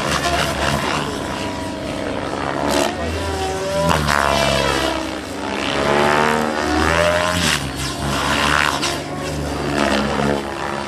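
A Chronos 700 RC helicopter flies extreme 3D aerobatics at an RC meeting in Damelang, Germany, its loud rotor and turbine whine surging and swooping continuously as it pitches and turns close by.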